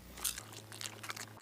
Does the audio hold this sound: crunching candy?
yes